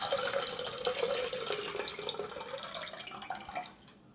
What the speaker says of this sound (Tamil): இப்போது பருப்பு கடைசல்ல புளி தண்ணியை ஊற்றிடலாம்.